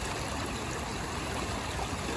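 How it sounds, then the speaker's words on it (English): Creek water runs steadily beside a dam, a continuous close broadband rush and trickle that holds at an even level throughout with no voices. "And that's the creek running that way and it goes around."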